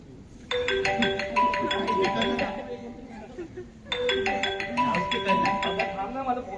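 A phone rings in the morning during a Marathi stage play, a repeating melodic ringtone sounding in two bursts of about three seconds each, fairly close and clear, with voices talking faintly underneath.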